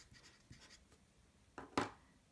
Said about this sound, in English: Okay, so here I'm going to just write